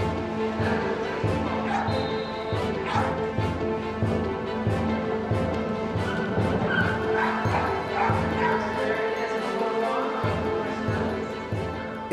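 Small Papillon dog barking at an agility competition, repeated yips and bow-wow barks ringing out amid a busy, noisy hall with crowd murmur and steady background din.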